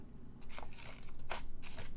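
A few crisp, close snips from the small scissors of a Gerber Dime multitool, heard over a low background hum.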